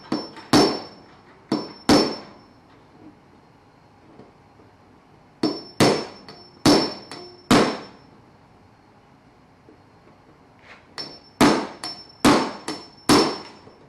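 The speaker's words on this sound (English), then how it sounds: "The only way we're getting them out is with an impact." An impact tool hammers at rusty slot-head screws in an old truck cab, firing sharp metallic bursts in short clusters of two or three with quiet gaps between them. No one speaks.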